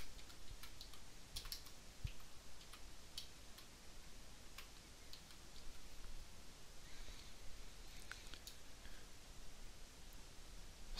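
Steady computer keyboard typing during text entry in bridge-lesson handout software, a continuous run of quick close key clicks over a faint hiss, with no talk.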